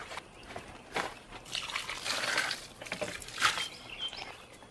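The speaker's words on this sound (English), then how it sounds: "I just want to give them a little bit of water while I'm around here." Water trickles and patters softly onto garden plants as they are watered by hand, an uneven, quiet splashing with no voices.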